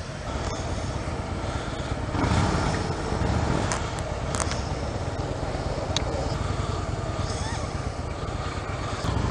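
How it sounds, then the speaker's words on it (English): A Harley-Davidson Softail Deluxe motorcycle engine hums steadily while riding, a continuous low rumble with wind noise that swells slightly partway through, with no talking over it. "this ride is the Harley Softail Deluxe"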